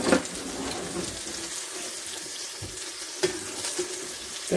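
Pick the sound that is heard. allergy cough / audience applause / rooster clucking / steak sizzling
steak sizzling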